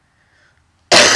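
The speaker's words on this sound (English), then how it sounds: "Oh, sorry, this cough won't go away." A single sharp, loud cough bursts out after a brief near-silence.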